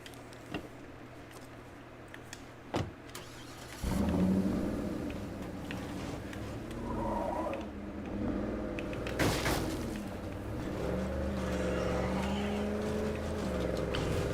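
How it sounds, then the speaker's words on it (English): A truck in State of Decay 2 starts with a couple of clicks, then its engine catches and rumbles steadily as it drives off, revving and shifting pitch while a voice talks briefly. "Let's take the truck."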